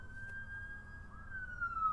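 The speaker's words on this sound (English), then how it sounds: "Okay, a lot of sirens." A distant siren wails in a long, slowly sliding tone over low background rumble, faint but clear.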